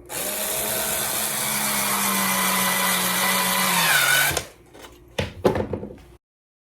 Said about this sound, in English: So I'm going to put one on each side and screw them in and hope for the best.